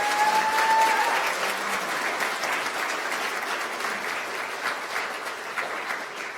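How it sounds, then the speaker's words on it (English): Audience applause after student speakers at a special announcement event, a dense steady wash of many hands clapping that holds even and loud throughout before slowly easing off slightly toward the end. "Let's give them a big round of applause."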